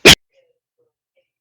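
A single sharp sneeze, loud and close, quickly followed by silence.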